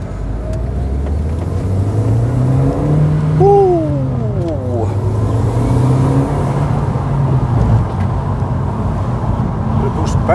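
An Audi TT out on a road test drive, with a steady engine drone and road rumble throughout, rising briefly mid-drive, while people talk inside the car over the noise.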